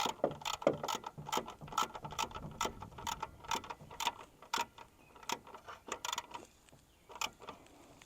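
A hand ratchet tightens bolts on a 2021 Silverado grill, giving a close series of sharp clicking bursts in a quick irregular rhythm, pausing briefly before a few final clicks.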